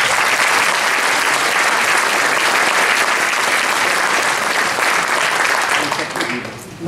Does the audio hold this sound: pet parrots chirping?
no